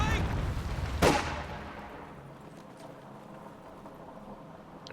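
A single sharp gunshot cracks out from infantry units in Company of Heroes 2, a World War II strategy game, followed by a long fading rumble and faint scattered battlefield noise beneath it.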